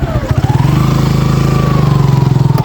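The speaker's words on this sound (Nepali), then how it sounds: "बाइक कहाँनिर राख्नु मिल्छ?" Close, loud motorcycle engine idling with a steady pulsing throb, its pitch easing slightly as it is brought to rest.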